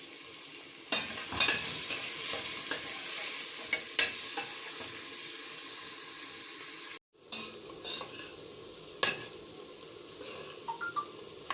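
Kienyeji chicken pieces frying in hot oil, with a steady sizzle throughout, broken by repeated stirring scrapes and clinks against the pan and a brief pause in the middle.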